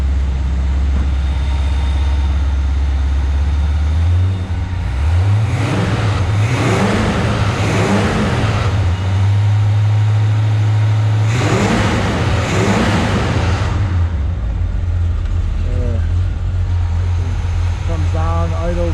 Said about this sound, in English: Let's rev it up just a hair.